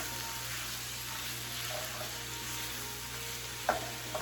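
Pre-cooked vegetables frying for vegan basil fried rice, a steady soft sizzle in a pan with a brief stir or clink near the end.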